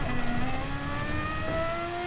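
Race car engine in a racing video game, revving steadily and close with rising and falling harmonic whine, continuous through the short stretch.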